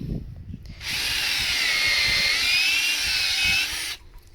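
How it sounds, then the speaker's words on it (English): A power drill bores holes into a log for mushroom inoculation, starting abruptly and whining at a steady high pitch for about three seconds before cutting off, close and clear with no talk. "So he's drilling down, and then he's pulling up to take all the"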